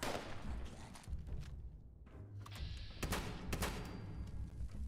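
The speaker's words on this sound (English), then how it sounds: "Trying to shoot at me." Enemy gunfire in Fallout 76: a rapid run of sharp shots and thumps in bursts, near and fairly loud amid in-game noise, with a short lull before the firing picks up again.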